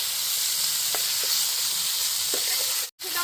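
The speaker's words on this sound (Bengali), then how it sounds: "আর প্রথমবারে চিকেনগুলো এবার এর মধ্যে আবার দিয়ে দেবো দিয়ে একটু ফ্রাই করে নেবো" Chicken pieces fry in a pan of oil with a continuous hissing sizzle and a few soft stirring knocks, close and steady, cut by a brief silent dropout near the end, with no voices.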